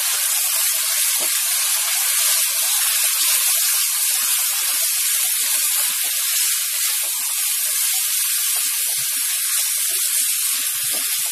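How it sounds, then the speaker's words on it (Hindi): Chopped potatoes sizzle in a pan with cumin for a spicy aloo bhujia, an even, unbroken high hiss of frying that holds steady throughout with no talking. "यहाँ पर मैंने आलू डाल दिए हैं कटे हुए"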